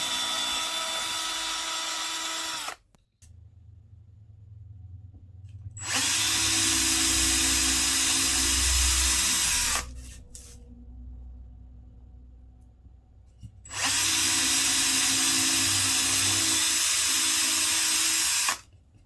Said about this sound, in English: right here you'll see I'm drilling holes into this frame